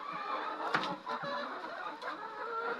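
Backyard poultry chickens clucking close by, several short irregular clucks and squawks rising over a steady low ambient murmur, with no talking.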